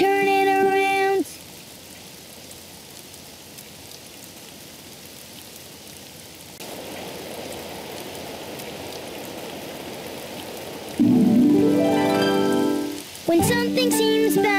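Steady rain falls in a Daniel Tiger children's video game as a continuous hiss that grows louder partway through, with short bursts of bright musical or sung tones at the start and end.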